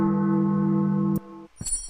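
A bell rings in a video game, a loud sustained metallic tone that holds steady and then cuts off abruptly, followed by a brief soft clatter.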